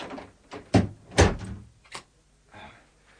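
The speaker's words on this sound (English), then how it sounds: "If you shut this door, we can switch the lights on here." An interior door pushed shut in an old house, heard as a few solid thuds and knocks over about two seconds at close range, with no talking during the sounds.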